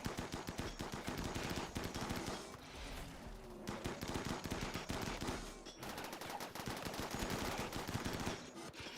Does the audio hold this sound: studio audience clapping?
no